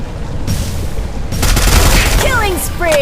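Game gunfire and a booming blast fill the mix, with a dense burst of crackling shots and whistling effects toward the end, loud and close.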